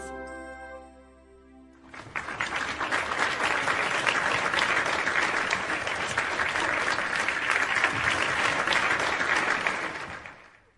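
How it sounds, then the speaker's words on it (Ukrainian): Children at a musical puppet show break into loud, sustained clapping that swells after a quiet opening, fills the room steadily, and fades out at the end. "Ми будемо голосно-голосно плескати"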